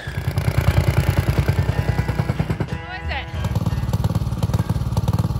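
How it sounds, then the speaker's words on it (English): Plate compactor pounding over dirt around deck block footings, a rapid, steady rhythmic thumping and engine drone close by that pauses briefly before restarting, with people talking over it. "I'm just gonna run the compactor through them"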